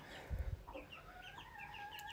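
A chicken clucks softly a few times, followed by brief higher chirping calls, fairly faint against a quiet background.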